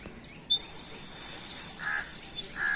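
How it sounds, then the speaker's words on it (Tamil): A clay bird whistle is blown in a long, steady, shrill note lasting nearly two seconds, followed by short warbling chirps, loud and close with no talking. "இப்படி சவுண்ட் வருது. இதில் வந்து ஸ்பெஷல் என்னன்னா குருவி கத்துற மாதிரியே சவுண்ட் வருமா."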